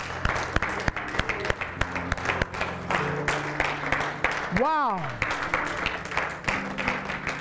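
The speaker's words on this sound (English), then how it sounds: "give God a hand clap of praise" A church congregation claps in praise, a sustained spread of applause with sharp individual claps, while a voice and sliding exclamations carry over it.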